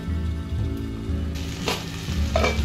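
Tomato sautéing under a lid in a pan for raw banana kofta curry, a steady close sizzle with occasional stirring bursts and a low hum underneath, no voices.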